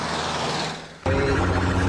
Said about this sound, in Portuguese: Ele comprou uma ambulância, ligou a sirene e saiu dirigindo aí de uma forma muito arriscada